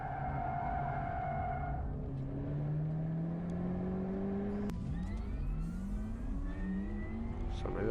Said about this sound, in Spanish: Un Honda Civic R Limited Edition.